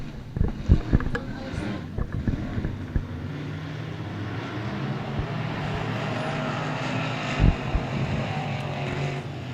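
Race cars running a heat race at Cotton Bowl Speedway, a continuous engine roar from a pack heard at a distance, with wind buffeting and occasional knocks near the microphone.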